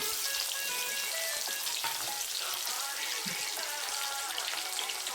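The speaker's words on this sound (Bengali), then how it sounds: "পেঁয়াজ কুচিটাকে ভালো করে নেড়ে চেড়ে লাল লাল করে একটু ভেজে নেব" Chopped onion fries with whole cumin in a hot pan, a steady, close crackling sizzle that holds throughout, broken by occasional stirring scrapes and no talking.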